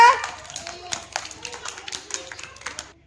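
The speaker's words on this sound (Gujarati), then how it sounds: "બધા તાળી પાડો." A group of family members claps during a home game, a loose, uneven patter of hand claps mixed with voices talking over it.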